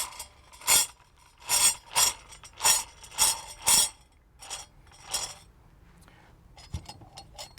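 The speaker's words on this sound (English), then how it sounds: "screw your cutting wheel on" A cutting wheel is screwed onto a MAXIS Max Punch tool with a 3-inch cup and blank, giving six bright metallic ratcheting rasps in a steady rhythm, then softer scrapes and light clinks, close up.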